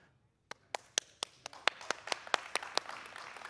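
A lone pastor claps for himself, about a dozen sharp, evenly spaced hand claps that start after a brief silence and speed slightly, close and clear with nothing else over them.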